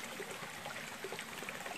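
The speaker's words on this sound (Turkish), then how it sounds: "Orada dere var." Small stream in a garden valley, flowing steadily with a continuous close-up trickle and babble of water and no voices.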